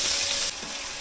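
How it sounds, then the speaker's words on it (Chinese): Chili peppers fry in oil in a home kitchen, making a loud, dense sizzle that drops abruptly to a softer crackle halfway through the one-second burst. "炒辣椒啊"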